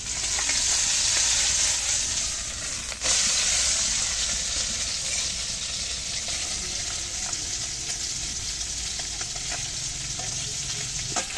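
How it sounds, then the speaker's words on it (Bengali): Desi puti fish fry in hot oil with a loud, steady sizzle and crackle that fills the whole stretch, close up, with occasional faint clinks underneath. "মাছটা ভালো করে ভেজে নিলাম"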